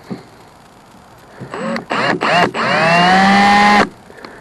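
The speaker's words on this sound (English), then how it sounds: "I'm going to try to drill it in reverse to get through that gel coat first" A power drill whines in short bursts, then runs steadily for over a second at a rising pitch before cutting off, close by, drilling in reverse through the gel coat of a Mako Pro Skiff 17 boat.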